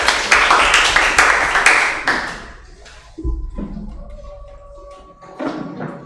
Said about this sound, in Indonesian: Iya, tepuk tangan semuanya.